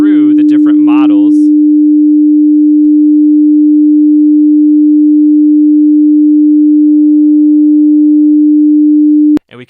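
A pure, steady sine tone hums continuously at a single low-mid pitch, loud and unchanging, with a brief burst of other sound at the start.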